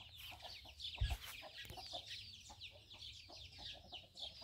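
Chickens, a rooster and chicks cluck and chirp inside a chicken coop fitted with new wire mesh, a steady mix of soft clucks and high peeping with a brief low thump near the start.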